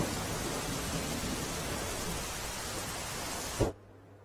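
Steady, dense roar of heavy rain pouring down in Junagadh, Gujarat, loud and continuous, then cutting off abruptly near the end.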